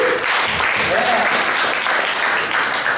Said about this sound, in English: Give a round of applause for the other previous acts, the 7 acts